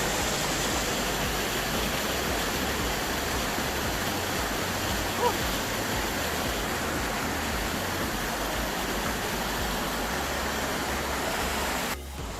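A steady, full roar of falling water at the fifth falls of DRT in Bulacan, a continuous broadband rush with no break, close and dominant, ending abruptly near the close.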